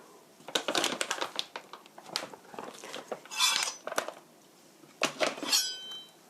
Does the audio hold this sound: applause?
no